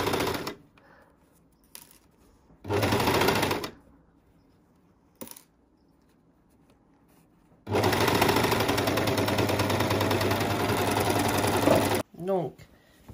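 A sewing machine stitches a men's boxer in three bursts, two short runs and then a long steady stretch of rapid mechanical whirring, close and loud, with quiet handling noises in the pauses between.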